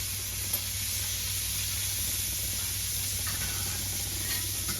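Butter and pav bhaji masala sizzle on a hot griddle, a steady, close, bright hiss that stays even throughout with no talking.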